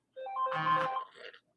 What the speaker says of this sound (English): That's my alarm. I don't know why it buzzed like that.